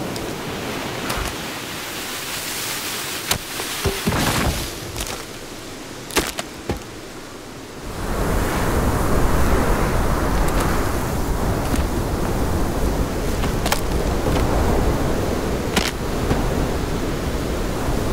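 Strong wind roaring steadily in the video game Sons of the Forest during winter, a broadband whoosh that swells louder after the first few seconds and keeps blowing with faint clicks on top, no talking.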